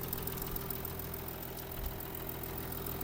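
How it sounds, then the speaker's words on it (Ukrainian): A 2018 Audi Q7 Quattro S-line engine idling steadily with a low, even rumble and faint knocking texture, no talking. "Моторчик працює як швейцарські часи."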